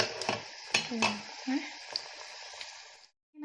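Thai long beans being pounded for a bean salad, a few dull thumps and scraping knocks close by with faint clatter, ending in a brief silence.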